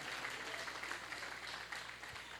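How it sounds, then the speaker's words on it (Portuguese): Faint, steady applause from a church congregation, a soft continuous patter of clapping heard at a distance with no voices over it. "aplaude mais forte aí"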